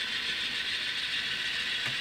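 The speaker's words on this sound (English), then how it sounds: "I just love watching a train snake through multiple crossovers." A small N scale model grain train runs along its track through crossovers with a steady, hissing metallic whir and a faint clatter of wheels, heard up close and alone.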